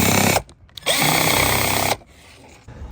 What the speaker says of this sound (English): I'm going to go ahead and tighten these up